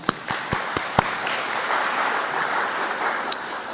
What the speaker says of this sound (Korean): 네, 우리 박수 한번 합시다.